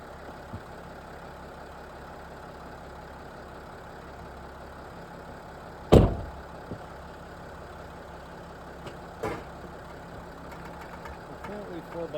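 A Mercedes Sprinter 4x4 van reverses off grass onto a sloped gravel driveway, its engine a steady low drone, broken by one sharp thump near the middle and a few lighter knocks later.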